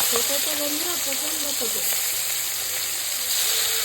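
Rita fish fry in hot oil with a loud, continuous close-up sizzle, while a voice sounds briefly at the start.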